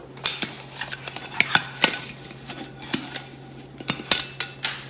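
A titanium cook pot being handled up close makes a run of sharp, light metallic clinks and taps at an irregular pace, with no talking.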